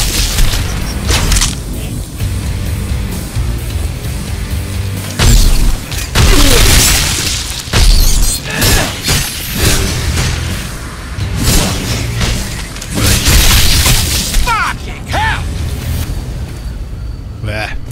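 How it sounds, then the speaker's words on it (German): Loud repeated explosions and booming blasts from exploding rune-marked beetles in the video game Shadow Warrior 2, mixed with whooshes and game music while someone talks over the action. "Sind jetzt so Explosivkäfer. Deshalb haben die Runenzeichen oben, die explodieren."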